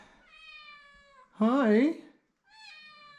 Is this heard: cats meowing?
yes